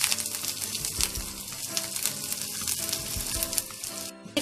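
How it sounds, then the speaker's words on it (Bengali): Chopped onion sizzles loudly and continuously in hot oil, a dense close frying hiss with crackles, briefly dipping near the end. "তেল গরম হয়ে গেছে, আমি দিয়ে দিচ্ছি একটা পেঁয়াজ কুচি।"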